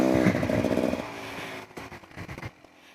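A 2021 Beta Xtrainer dirt bike engine pulls hard while climbing, a close, loud motor note that fades and drops into short bursts of revving and clatter.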